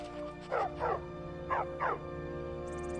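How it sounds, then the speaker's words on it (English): A dog in Skyrim gives four short, yelping barks in two quick pairs, fairly close and clear over a low, steady background hum. "Go back home, dog"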